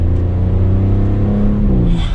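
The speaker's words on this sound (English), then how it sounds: "Give it a little bit of gas in automatic mode." A 2020 Audi S7 engine revs up loud and close in automatic mode, its throaty tone climbing in pitch as the sports sedan accelerates hard.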